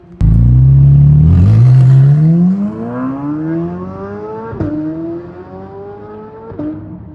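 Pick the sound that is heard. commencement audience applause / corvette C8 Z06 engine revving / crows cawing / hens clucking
corvette C8 Z06 engine revving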